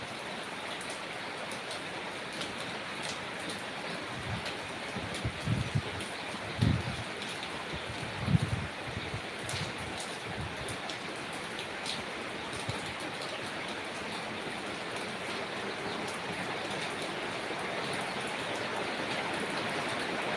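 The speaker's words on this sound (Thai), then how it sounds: "ฝนก็ตกแรงนะครับ มาแรงเลยนะครับ" Heavy typhoon rain falling steadily, a dense, even hiss that fills the whole stretch, with a few low thumps and knocks partway through.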